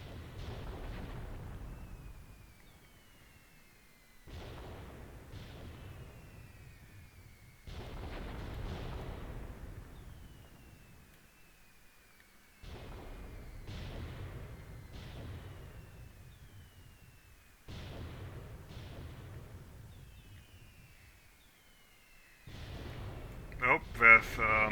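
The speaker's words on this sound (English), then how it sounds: "incendiary ammo from the 120mm mortars landing as well" Incendiary rounds from 120mm mortars land in the Graviteam Tactics war game during the Operation Uranus campaign, heard as repeated faint, muffled low booms and rumbling bursts, each lasting a few seconds with quiet gaps between them.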